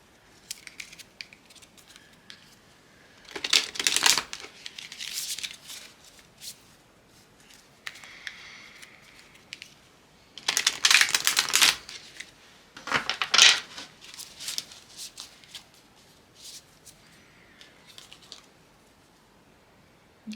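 Affirmation cards shuffled by hand at a tarot-style card reading, giving several short bursts of papery riffling and flicking, close and fairly loud, with quiet pauses between them and no talking.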